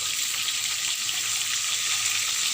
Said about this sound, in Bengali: আর এদিকে মাছ ফ্রাই চলতেছে